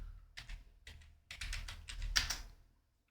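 Quiet bursts of typing on a computer keyboard, a few short clustered runs of key clicks separated by brief pauses, close and faint with no talk.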